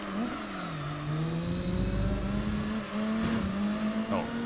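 Race car engine in the Gran Turismo 3 video game, driving in career mode with an RX-7 nearby: a steady, loud engine drone that dips as it shifts and then holds, with a brief tire squeal toward the end.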